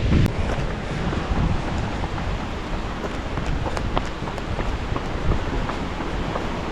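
Mountain torrent flowing beside a trail, a steady dense rush of water that stays constant and fairly loud throughout, with wind noise mixed in and no talk.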